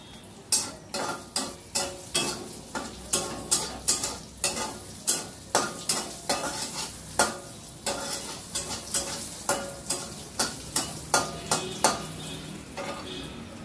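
Dried red chillies and cumin fry in a pan while being stirred, a steady sizzle punctuated by regular loud knocks and scrapes of a utensil on the pan, roughly twice per second.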